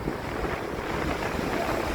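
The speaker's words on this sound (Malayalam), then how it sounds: "എന്നാലും തിര ഇങ്ങനെ അടിച്ച് കയറുന്നുണ്ട്." Sea waves surging up a rain-soaked beach in Thiruvananthapuram, a steady broadband wash of surf with heavy wind buffeting the microphone and no talk over it.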